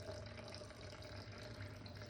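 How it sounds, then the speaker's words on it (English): Water being poured into sourdough bread dough in a kitchen, a faint continuous splashing trickle that runs steadily for a couple of seconds without any voices. "So we'll add 100 water now, or 109 to be exact"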